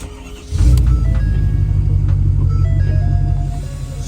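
A pickup truck starts on a cold 30-degree morning after battery problems; the engine catches after about half a second and settles into a loud, steady low rumbling idle, close by.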